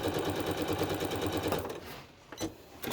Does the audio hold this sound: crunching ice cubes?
no